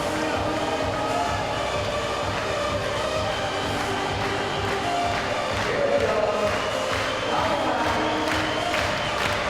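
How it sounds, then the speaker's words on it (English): Spectators at the men's and women's boulder finals of the IFSC Climbing World Cup in Toronto, 2014, cheering on a climber, a steady, loud wash of crowd noise and shouts sustained throughout. "the crowd coming in to support him here"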